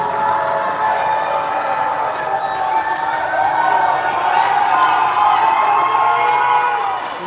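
Loud, sustained cheering and shouting from a crowd of families and kids at a 10U youth baseball championship game, a steady roar of voices that swells midway and stays dense throughout.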